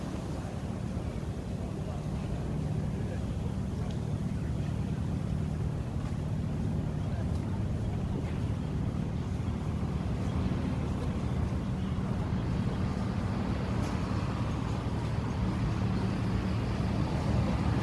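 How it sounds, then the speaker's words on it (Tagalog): A Hong Kong fireboat moves on the harbour, heard as a steady low engine and water rumble mixed with wind buffeting for the whole stretch. "Water fire engine."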